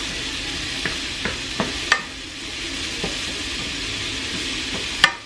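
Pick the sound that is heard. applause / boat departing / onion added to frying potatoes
onion added to frying potatoes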